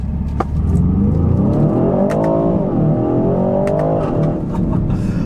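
A 2025 Aston Martin DBX707 SUV accelerating hard on a back road, its engine note rising through gears with a brief dip between shifts, loud and close, with sharp exhaust crackles and pops.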